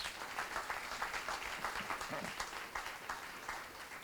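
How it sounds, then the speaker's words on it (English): Steady applause from an awards ceremony audience honoring a long-serving business couple, dense continuous clapping that fills the room at moderate distance with no voices over it. "So let's give them a round of applause."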